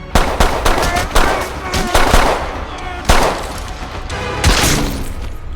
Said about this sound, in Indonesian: si Saju pun harus tewas ditembak si kolonel menggunakan sebuah sniper